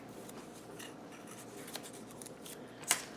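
Paper for an advent tea calendar is trimmed with scissors, a faint close snipping and rubbing with one sharper cut near the end, no voices.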